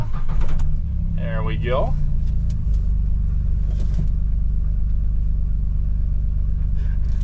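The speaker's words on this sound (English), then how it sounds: "take the little John Deere Gator out for a cruise" Small John Deere Gator utility vehicle engine idling and running on a Montana farm, a loud low steady rumble throughout with someone talking briefly over it near the start.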